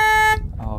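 A compact SUV horn sounds in one short honk from a remote car-finder function, followed by a brief rumble of nearby noise.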